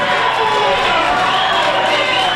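A wrestling crowd roars steadily behind Chandler Hopkins at an event, a loud, dense wash of cheering and shouting that fills the whole stretch without a break.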